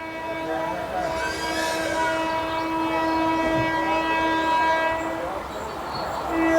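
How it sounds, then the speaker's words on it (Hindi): The Bhavnagar Terminus–Haridwar Express rushes past at full speed, its horn sounding a loud, sustained tone over rolling rail noise. "ये आगे दोस्तों ट्रेन 19217 या 71 ऐसी कुछ है, भावनगर टर्मिनस हरिद्वार एक्सप्रेस"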